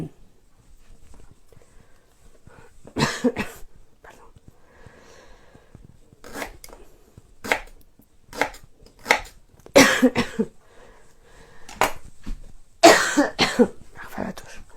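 Ingredients for a Christmas ferment are chopped into larger pieces with a knife, giving irregular, close, crisp chops separated by quiet pauses, with the taps bunching together toward the end.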